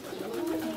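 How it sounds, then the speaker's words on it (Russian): Pigeons coo inside a dovecote, a soft, low, continuous burbling that carries close and steady through the short moment, with no voices over it. "Голубь воркует"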